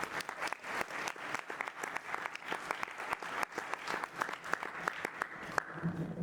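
A round of applause for a senator from the audience at a keynote address, fairly quiet and sparse, with distinct individual claps scattered through a softer continuous patter that fades near the end.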